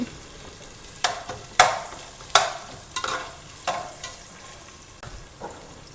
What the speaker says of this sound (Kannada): ಆನಿಯನ್ ಹಾಕಿ, ಇವಾಗ ಕಟ್ ಮಾಡಿ ಆನಿಯನ್ ಹಾಕಿದ್ದೀನಿ